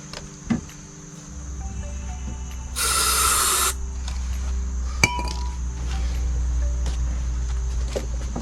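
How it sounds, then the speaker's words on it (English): Starting fluid gets one short aerosol hiss, about a second long, into the carburetor of a Briggs & Stratton 550ex push mower with the choke open, amid faint clinks and background hum. "I'm gonna open up the choke and put some starting fluid in it."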